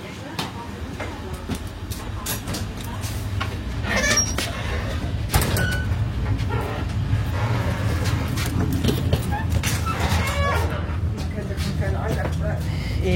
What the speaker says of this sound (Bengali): ট্রেন ছেড়ে দিছে।